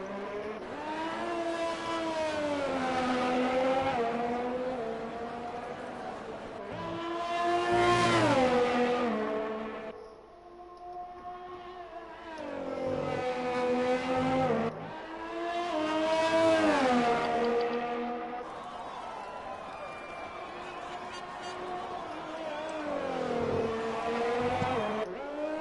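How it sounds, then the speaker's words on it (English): Race car engines in a sim racing video game lap a track, rising and falling in repeated passes as the engine revs up and shifts, loud and alone with no talk. "we've only got one car on track at the minute"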